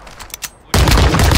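Gunfire erupts in Call of Duty Modern Warfare 2, a loud, dense burst of rapid shots that starts abruptly after a quieter moment of scattered sounds and continues to the end.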